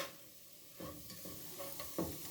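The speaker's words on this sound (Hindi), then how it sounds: "अब इसको मैंने हल्का हल्का सा ऐसे ही भून लेना है" Egg halwa mixture being roasted in ghee, with a spoon scraping and stirring through it in a soft, low sizzle; a few clearer scrapes land near the end, and no one talks.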